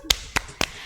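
Three sharp, separate hand claps from children at a church cheer, close and loud, evenly spaced within a second.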